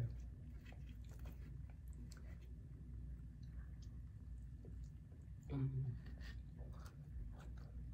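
Close, quiet chewing and biting of veggie pizza on a cauliflower crust, soft wet mastication over a steady low hum with one brief louder bite midway.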